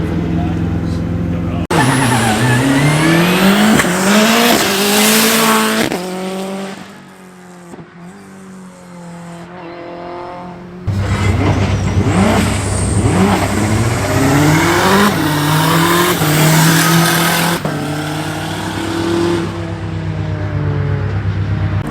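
A historic rally car drives on the wet Oulton Park skid pan, its engine revving loudly in rising and falling bursts, with a quieter lull in the middle before it accelerates hard again close by.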